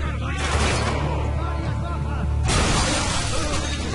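Grenade blast in the video game Spec Ops: The Line, a loud shattering burst followed by a second rush of debris and rumble, with some voice underneath.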